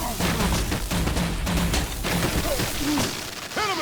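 Gunfire and explosive impacts in the video game Telltale Batman: The Enemy Within, a dense loud barrage of blasts and crashes with shouted voices in the mix.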